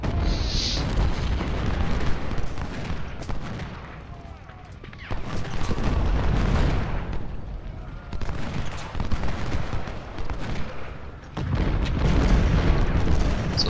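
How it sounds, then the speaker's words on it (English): Cannon fire in a video game recreation of the Battle of Bull Run, with repeated deep booms and rumbling volleys rolling through a dense battle din, while people talk over it. "sometimes they'll try to pepper you with cannon fire for a little while."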